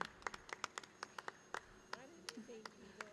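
Scattered, sparse hand claps from a small gathering at a forum as a raffle winner is called up. The claps are quiet and irregular, and a voice speaks briefly toward the end.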